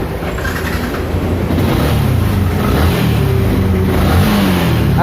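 Kawasaki EX150 motorcycle engine running after a part replacement, revving with a steady loud drone that rises and holds, close by with no talk.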